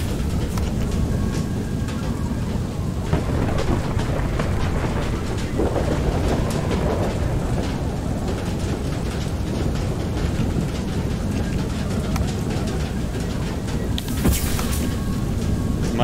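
Heavy rainstorm in the video game FAR: Lone Sail, a dense, steady broadband rush of downpour that runs loud and continuous throughout, with a brief brighter burst near the end.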